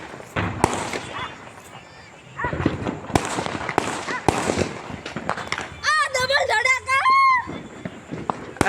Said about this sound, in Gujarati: જો બધી કોર નકરા ફટાકડા ફૂટે